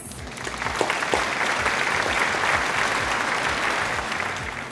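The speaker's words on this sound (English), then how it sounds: "Let's give yourself a round of applause." A classroom gives a round of applause, dense, even clapping from many hands that holds steady for several seconds and tapers slightly at the end.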